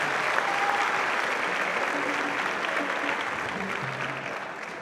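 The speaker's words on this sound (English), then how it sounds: "can you give them a huge round of applause?" Sustained applause from a concert audience at a memorial band concert, dense and steady throughout, gradually fading slightly toward the end, with a few faint voices mixed in.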